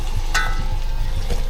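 Onions cook gently in melted butter in a pan over a very low flame, giving a soft steady sizzle with a faint clink or stir, close by, no talking.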